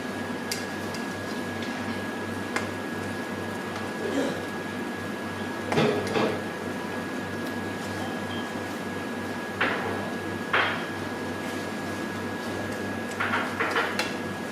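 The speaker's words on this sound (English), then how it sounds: "Just keep moving the mushies around." Mushrooms stirred with bacon in melted butter in a pan, making soft, steady sizzling with occasional scrapes and clinks of the utensil against the pan, continuous and close.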